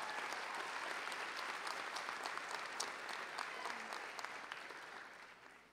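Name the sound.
graduation ceremony audience applauding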